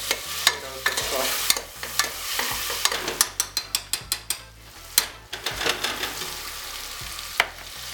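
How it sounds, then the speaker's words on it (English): Curry chicken and potatoes frying in a pan, with a sizzle broken by rapid clattering scrapes and knocks of a utensil stirring against the pan, mostly in quick bursts. "Just fry this up a little bit first before I start really seasoning on the potatoes"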